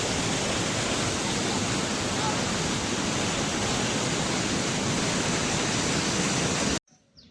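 Water rushes out from pumps at the Iranamadu reservoir in a loud, dense, unbroken roar that fills most of the clip before cutting off abruptly near the end.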